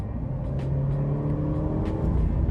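A 2023 Alfa Romeo Giulia sport sedan's turbocharged four-cylinder engine accelerates hard under full throttle, a steady loud droning pull heard from inside the cabin with no talking.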